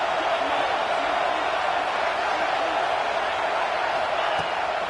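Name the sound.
football stadium crowd cheering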